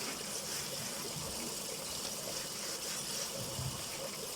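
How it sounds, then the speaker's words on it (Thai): Water drains from a public carpet-washing basin in Finland, a steady rushing gush heard close and alone at an even level. "พอเราเสร็จเรียบร้อยเราก็เปิดน้ำทิ้งค่ะเป็นที่เปิดอย่างี้"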